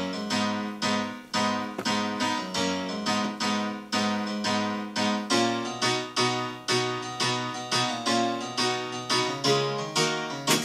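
Phased electronic piano chords play in a steady rhythmic pattern within a full electronic dance mix, loud and continuous with regular sidechain-like pulsing.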